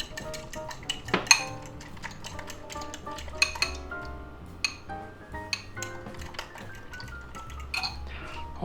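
Eggs and spinach leaves get beaten with a utensil in a bowl, giving quiet irregular clinks and scraping taps against the dish at close range.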